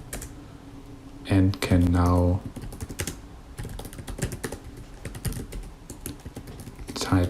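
Typing on a computer keyboard while running Python code in a terminal, a quick run of close key clicks mixed with a voice speaking and louder tones in the middle.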